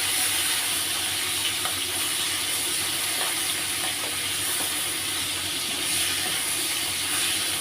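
Prawns for a malai curry fry lightly in a pan with a soft, even hiss of oil that holds steady throughout, with no voices.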